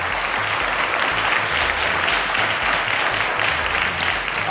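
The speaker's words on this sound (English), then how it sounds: "A round of applause to her, please" A quiz show studio audience gives a contestant a sustained round of applause, thick and even clapping from many people filling the room, with a low rhythmic music beat thumping underneath.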